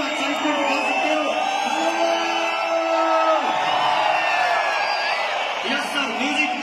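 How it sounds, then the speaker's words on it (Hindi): A large stadium crowd at an anniversary event in New Delhi's Thyagaraj Stadium cheers, whoops and yells in a steady, dense roar, with whistles rising above the noise and a continuous din throughout. "सीटी बजा सकते हो, ताली बजा सकते हो, हू हल्ला कर सकते हो, एक्साइटमेंट दिखा सकते हो।"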